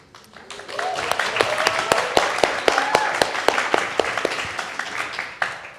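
An audience at a film festival panel claps in steady rhythmic bursts of sharp hand claps that keep going throughout, with a person speaking over them.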